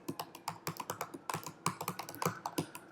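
Rapid typing on a computer keyboard while working in Android Studio, with steady clusters of close, crisp key clicks in an uneven rhythm and no talking.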